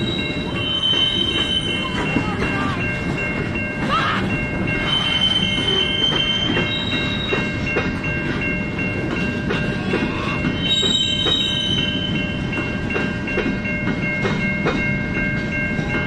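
A long freight train with hooded coil cars rolls past close by in a steady, loud rumble of wheels and rail noise. Faint squeals and clicks ride over it the whole time.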